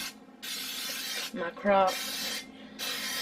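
Two bursts of hissing cooking spray into a crock pot, separated by a short spoken phrase and a brief clatter, close and fairly loud.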